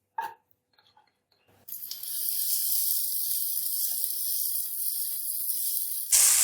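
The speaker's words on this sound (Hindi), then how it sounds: "अब हम उसी ऑयल के अंदर एक अदद प्याज शामिल करेंगे" Onion dropped into hot oil for a restaurant-style gobhi matar mixed vegetable dish: after a quiet start, a sudden steady loud sizzle and hiss of frying that continues, briefly swelling at the end.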